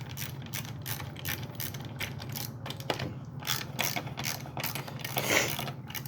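A ratchet socket wrench with a 5/16 socket tightens the bar nuts on a new Poulan 245SA chainsaw fitted with a roller nose bar, giving quick repeated clicking strokes through the whole stretch at close range.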